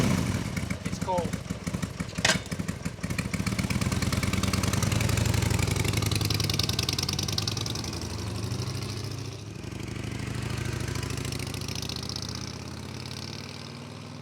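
A cold Harley-Davidson Sportster idles through its stock exhaust. A close, steady, loping rumble with an uneven beat continues the whole time, with a voice heard briefly over it.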